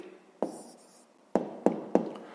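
A pen writing an answer by hand on paper for a fifth-grade maths exercise: short scratchy strokes and taps, close and quiet, in a few quick bursts.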